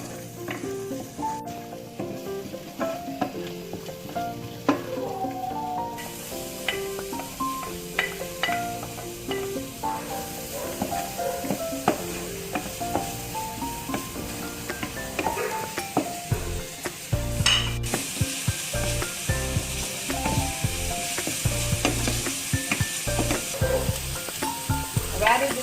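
Garlic sizzling in plenty of ghee in a pan for sarson ka saag, a long steady close frying hiss with frequent clinks and scrapes of a utensil against the pan, intensifying in the later part.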